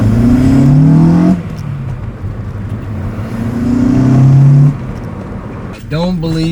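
Rebuilt Acura TSX engine revving with VTEC failing to engage, two rising rev sweeps climbing then dropping off, loud and close, with a voice speaking briefly at the end.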